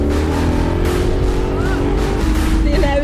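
A car drives fast with a loud, steady engine drone and road rumble inside the cabin, while people talk over it now and then.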